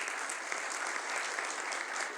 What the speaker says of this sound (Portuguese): Então eu peço uma salva de palmas